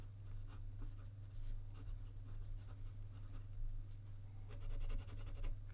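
An Asvine P30 fountain pen with a stub nib scratches softly across Rhodia paper, a faint continuous scritch of strokes under a steady low hum in a quiet room.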